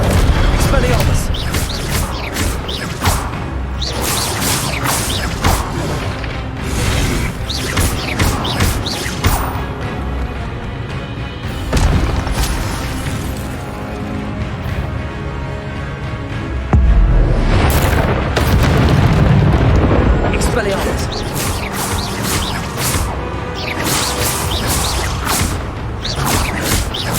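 Repeated Expelliarmus spell casts in Hogwarts Legacy combat make a long run of loud booms, crashes and impacts, one after another over a constant, dense game soundscape.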